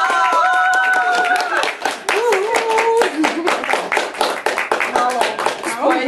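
An audience at a Czech event claps in a dense, sustained burst of applause, with an excited voice calling out over the clapping throughout.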